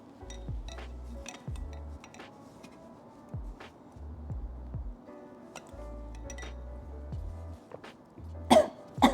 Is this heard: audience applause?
no